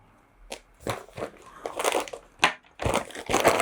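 Crinkly rustling and short scratchy bursts as a fabric pouch is handled and unzipped, close up, in several uneven pulls.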